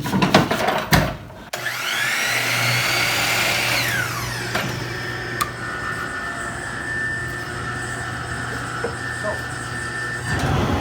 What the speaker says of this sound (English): I'm just going to pop over to the chop saw and trim this off.